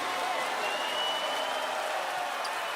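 A basketball arena crowd at an NBL game between Adelaide 36ers and Sydney Kings roars and cheers after missed free throws, a dense continuous wash of noise that holds steady throughout.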